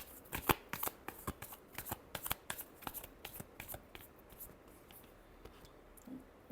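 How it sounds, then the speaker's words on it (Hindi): A deck of cards is shuffled in a rapid string of crisp riffling snaps that gradually thin out, close and fairly quiet, with no talk over them. "Last shuffle."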